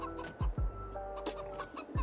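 Chickens cluck in a video game farm, a few short clucks and calls coming close together against a steady low background hum, with no talk.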